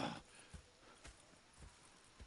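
Horse hooves clip-clop in Red Dead Redemption 2, a faint, steady walking rhythm of soft thuds about twice a second, with no voices over it.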